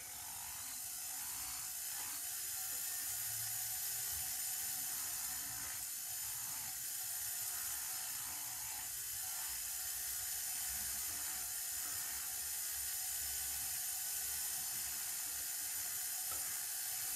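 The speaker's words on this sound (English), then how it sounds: "I have smoothed that out with the rotary file" A rotary file smooths a carved wax hinged bangle with a steady, close, high-pitched grinding whir. It runs continuously without a break, and no one speaks.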